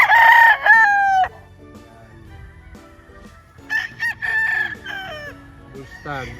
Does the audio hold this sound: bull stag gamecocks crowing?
yes